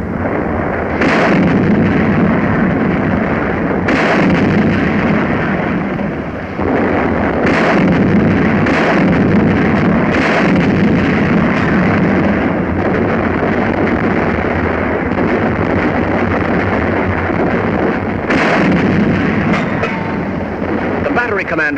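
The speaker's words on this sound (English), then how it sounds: "British 25-pounders open up." British 25-pounder field guns firing in North Africa: loud, heavy booms repeat at irregular intervals over a dense, continuous rumble, with someone speaking over the barrage.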